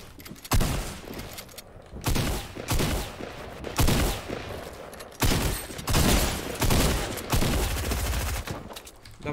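Loud Fortnite gunshots ring out one after another in a steady rhythm of single heavy blasts, each with a short echoing tail.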